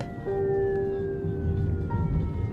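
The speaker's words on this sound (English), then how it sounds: "That evening, we heard sirens." A loud emergency siren wails with a long, slowly falling tone over a low rumble of traffic, fairly close, at a border crossing in Morocco.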